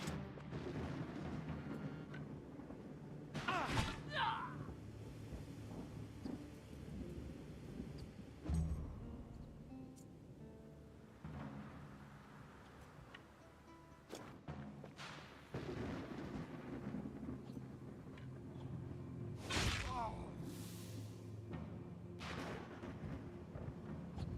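Thunder cracks and rumbles from a lightning strike in the video game Wartales, several loud booming bursts rolling through the scene at irregular intervals over a steady low background.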